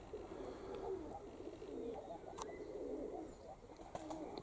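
A flock of young pigeons coos softly and steadily at a loft, low murmuring calls running throughout with a few faint chirps and wing sounds mixed in.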